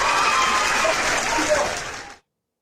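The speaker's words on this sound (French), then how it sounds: "applaudissez pour la Côte d'Ivoire." An audience applauds for Côte d'Ivoire, a dense burst of clapping with some crowd noise that fades and then cuts off abruptly after about two seconds.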